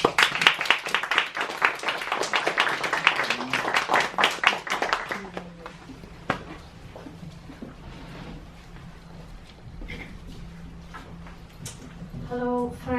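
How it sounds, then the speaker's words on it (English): An audience at an open mic for exiled writers claps for a speaker, with dense applause for about five seconds that then stops, followed by quiet room noise and faint voices. "so please give her a round of applause"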